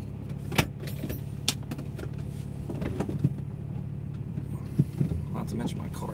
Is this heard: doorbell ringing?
no